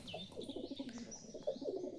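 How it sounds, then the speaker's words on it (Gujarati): Soft, low cooing of a pigeon inside a deep old well, faint and slightly hollow, with some higher chirps over it. "જો કબૂતર પણ છે અંદર."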